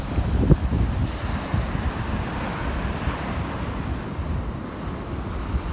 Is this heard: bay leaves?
no